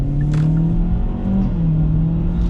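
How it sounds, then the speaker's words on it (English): A 2023 Kia Forte's engine hums and rises in pitch from inside the cabin as its CVT is shifted manually, a steady near drone with brief revving swells and no talk. "when you are going through the gears of your CVT transmission manually, as I am doing right now"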